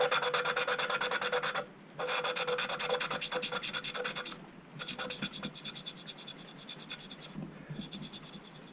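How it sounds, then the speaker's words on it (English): Engine valves of a Volvo Penta MD1B are hand-lapped into their seats, producing a rapid, rhythmic gritty rasping back and forth, close and steady, in several bursts separated by short pauses. "And that is how you grind in valves."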